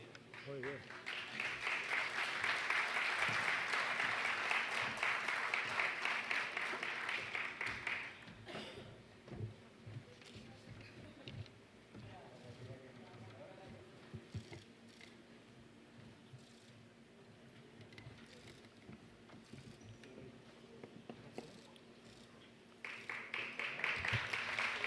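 Audience applause at a public security seminar on organized crime in Latin America: a loud, dense burst of clapping lasts several seconds, gives way to quieter room sound with voices, then swells again at the very end.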